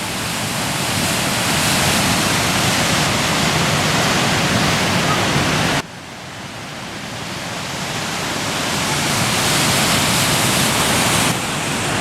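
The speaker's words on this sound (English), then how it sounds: "just watching the flood come down the Elbow River." Floodwater of the Elbow River at Inglewood during the June 2013 flood, rushing in a loud, constant roar with brief dips, close and alone without voices.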